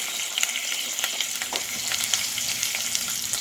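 Turkey neck sizzles in melted butter in a pan, a steady crackling fry with frequent sharp pops and spits, close and fairly loud, with no talking.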